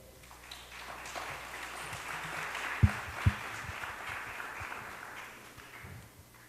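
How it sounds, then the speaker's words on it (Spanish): Audience at a conference applauds to welcome a speaker, soft, distant clapping spread through the room with a couple of louder thumps near the middle. "Recibimos con un fuerte aplauso a la PhD Nancy Ulloa"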